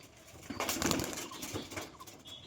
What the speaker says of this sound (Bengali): চলো পায়রা দুটোকে ছেড়ে স্ট্যান্ডিং শক করে দেবে দাদা